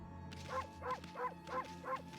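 Five evenly spaced, synthesized-sounding dog yaps from the video game Okami repeat in a steady rhythm over soft background music, with no voices.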